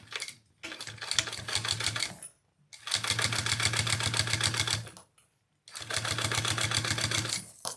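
Sewing machine top stitching a crossbody bag with zipper and fabric wings, three runs of rapid, even mechanical stitching close up, separated by short silent pauses.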